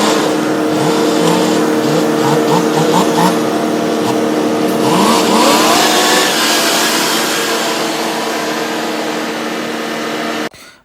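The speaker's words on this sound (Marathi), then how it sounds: "मग आपल्या गाडीचा आवाज कसा आहे." A vehicle engine runs steadily, a loud, constant drone with tonal whine and some rising revs midway, cutting off abruptly near the end.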